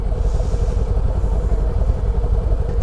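A Kawasaki Ninja 400 motorcycle engine under a little throttle, a loud, steady, close mid-pitched drone with a rough pulsing texture, no talking.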